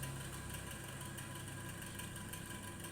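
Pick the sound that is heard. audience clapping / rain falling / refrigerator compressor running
refrigerator compressor running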